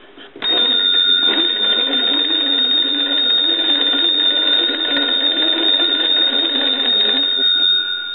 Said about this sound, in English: we'll ring the telephone with a crank one more time